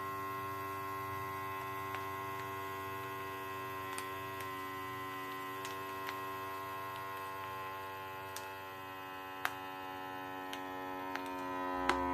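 A vacuum sealer runs with a steady electric motor hum with layered tones, broken by a few sharp faint clicks, even and mechanical with no voices.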